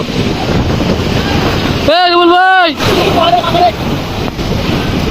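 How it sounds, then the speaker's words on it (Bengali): Loud wind buffets the microphone over a steady roar of surf on Cox's Bazar beach, with a man's brief call cutting through midway. "আর সাথে আছে সাগরের গর্জনের বাতাস"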